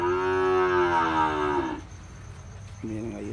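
A dairy cow gives a long, loud, close moo that fades out, then a second shorter low call follows after a pause.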